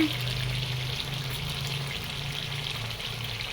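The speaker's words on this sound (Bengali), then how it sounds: "মাংস দিয়ে মশলা দিয়ে খুব সুন্দর মতো কষানো হয়ে গেছে" Meat with spices frying in a pan for a khichuri and meat meal, a steady close sizzle and hiss with a low hum underneath, continuous and moderately quiet, with no voices.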